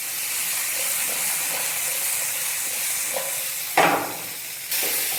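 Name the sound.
tomato frying on high flame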